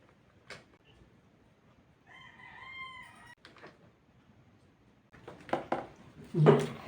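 A rooster crows once in a drawn-out call in the middle, followed by scattered clucks and clatter nearby in an otherwise quiet setting.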